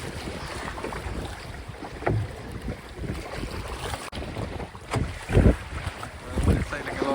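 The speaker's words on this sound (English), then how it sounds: "We're sailing along" A sailboat moves slowly along on open water while wind buffets the microphone. Water sloshes against the hull and a few louder splashes stand out from the steady rush.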